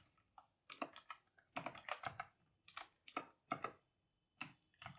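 Fingers type on a computer keyboard in quick bursts of soft, close key clicks separated by brief pauses.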